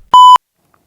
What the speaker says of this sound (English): I got a beep. I'm low tech. I have a beep.